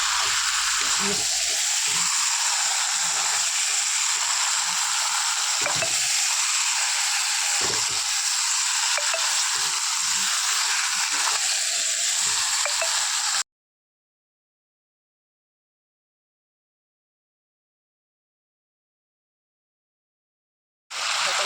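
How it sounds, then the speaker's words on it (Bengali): Chicken pieces frying on high heat in a pan, a steady bright sizzle with occasional stirring scrapes, going silent for several seconds before resuming. "মাংসটা এখানে ঢাকা মারিনি, আমি এইভাবে আস্তে আস্তে কষে নিচ্ছি।"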